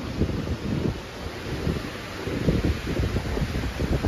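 Outdoor wind blows steadily across the microphone, a loud, rumbling buffeting roar that swells slightly in gusts, with no one talking.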